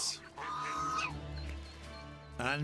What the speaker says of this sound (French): Ici, ce jar s'en prend au colvert jacasseur.